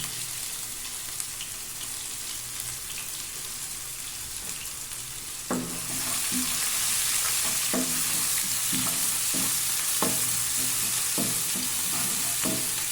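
One sliced onion fries in a pan for green peas kurma. A quiet sizzle swells louder midway, and rhythmic spatula scrapes and taps keep coming as it's stirred, with no talking.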